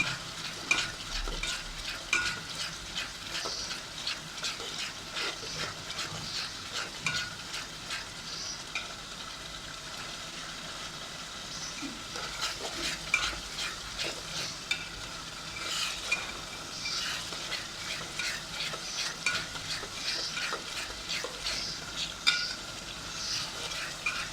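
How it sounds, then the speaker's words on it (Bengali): Pangas fish curry being stirred in a cooking pot, with a steady sizzle under repeated scraping strokes of a spoon against the pot, close and continuous for the whole stretch, without speech. "তো আমি এখন পাঙ্গাস মাছের পাতিলে আসলাম, এখানে ভালো করে নেড়ে ছেড়ে দিচ্ছি এটাকে পেস্ট করার জন্য।"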